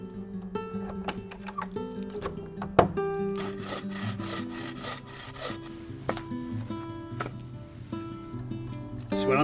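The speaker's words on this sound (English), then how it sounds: "when I'm cutting firewood, I generally cut it in 2 different sizes" A hand saw cuts firewood outdoors at a campsite, with steady rhythmic back-and-forth strokes close by and a sharp knock partway through, and no talking.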